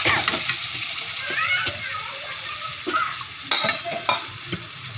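Garlic and Malvani fish masala tempering in hot oil, a steady close sizzle broken by scraping stirs and a few louder spits.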